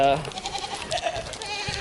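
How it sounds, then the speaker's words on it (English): Hungry goats bleat in a barn, with a short wavering cry near the start and a fainter bleat midway over a background of farmyard noise. "You can hear the goats are super hungry."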